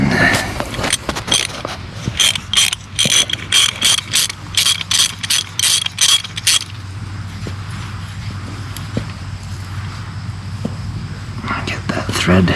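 Thread tap set cleaning bolt threads on a 1995 Dodge Ram 2500, with a rapid run of close, crisp ratcheting clicks followed by a quieter stretch of low hum and faint mechanical ticks.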